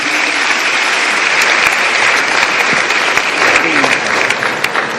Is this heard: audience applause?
yes